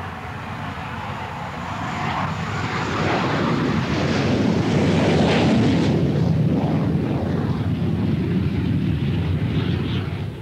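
A Hawker Hunter jet climbing in flight, a broad, steady roar that swells and then holds, heavily mixed with rushing wind noise.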